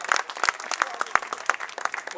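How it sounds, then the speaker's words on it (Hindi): A small gathering at a block Congress party office claps to welcome a guest, a brief, uneven burst of individual handclaps, close and distinct rather than a dense wash. "तालियों से गौरी शंकर जी का भी स्वागत।"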